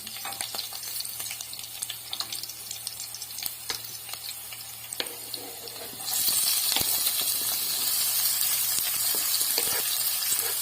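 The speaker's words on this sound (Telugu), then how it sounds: "పచ్చిమిర్చి వేగిన తర్వాత ఉల్లిపాయలు కోసుకునేవి వేసుకుంటున్నామండి" Chopped onions and green chillies fry in hot oil for a flat bean curry, a steady close sizzle that swells louder partway through, with scattered stirring clicks and no talking.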